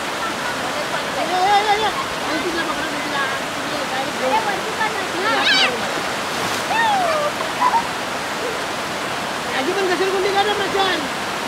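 A village waterfall at Hemnagar near Alibag, a loud continuous rushing roar of falling water throughout, with children's and adults' voices calling and talking intermittently over it.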